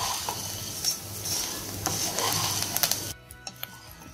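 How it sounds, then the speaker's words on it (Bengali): Puffed rice with egg sizzles and crackles as it is stir-fried in a pan, with a spatula scraping and clinking close by before the frying abruptly cuts off, leaving a few scattered taps. "আমার মুড়িটা প্রায় ভাজা শেষ।"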